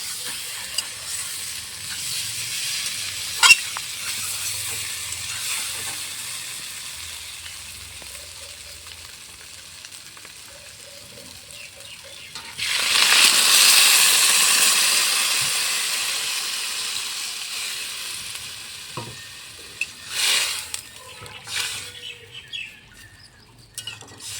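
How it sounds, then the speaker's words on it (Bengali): Water hits potatoes frying in spices in a pan for a Bengali pabda fish curry, setting off a loud burst of steamy sizzling that fades, amid a faint fry hiss with stirring scrapes and clinks. "এখন জল দিয়ে দেবো।"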